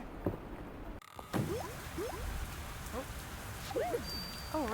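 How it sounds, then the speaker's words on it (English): Rain falls in the video game Fields of Mistria, a soft steady patter heard along with whistling chirps and small game sounds, without talking. "because it's raining out."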